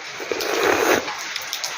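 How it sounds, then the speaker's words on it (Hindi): Steady rain falling outside, heard from indoors at a government higher secondary school in Badhat, Kishtwar district, in the mountains; a continuous broadband hiss that swells slightly midway, with no talking. "बाहर बारिश है"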